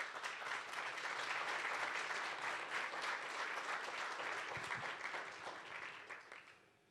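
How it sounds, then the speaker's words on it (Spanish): A large audience applauds steadily, dense and sustained, welcoming the new rector of ITESO at a university book presentation, then slowly tapering off near the end. "Los recibimos con un aplauso."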